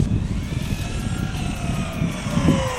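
A Traxxas Hoss RC car tears across snow at top speed, its steady high-pitched motor whine rising and shifting in pitch as it runs away into the distance.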